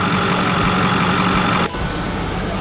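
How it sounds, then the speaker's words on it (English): A Ford F-450 pickup truck runs hard on a dyno, fitted with new exhaust pipes, a performance chip and a new intake, its engine roaring loud and steady before the tone drops abruptly near the end, with no talking. "Here we are dynoing the truck with the new exhaust pipes on there, the chip, and the intake."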